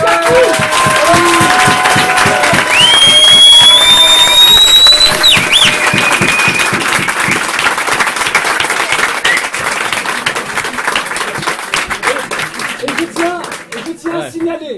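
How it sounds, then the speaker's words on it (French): A congress crowd claps warmly, sustained and loud, with audible cheering and whistles rising over it, then slowly tapering into scattered claps toward the end while a voice speaks. "d'applaudir chaleureusement Madame Nathalie"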